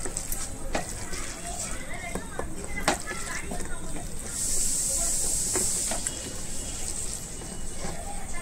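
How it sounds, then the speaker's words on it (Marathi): Grated onion and potato bhaji frying in hot oil, giving a steady close sizzle with scattered crackles and pops. "तेल आपला गरम झालेला आहे. आता आपल्याला सोडायचे आहे त्याच्यामध्ये."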